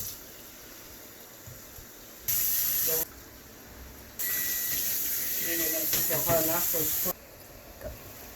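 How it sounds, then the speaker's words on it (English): Loud bursts of steamy hissing from a covered pot of chicken stew on low heat come and go, one short and one longer, with faint crackling beneath and quiet moments between. "we're going to cover it so it can steam up"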